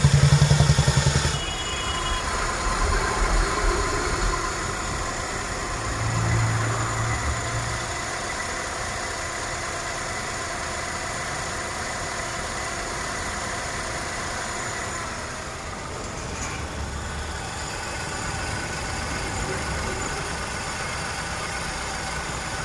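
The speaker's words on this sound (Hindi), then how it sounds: "तो सबसे पहले गाड़ी की जो इंजन नॉइज है वो एक बार यहाँ पे सुन लेते हैं।" Tata Tiago 2023 BS6 phase 2 petrol engine idling, steady low hum with a faint rattle, a short burst at the start then even and unchanging, no talking.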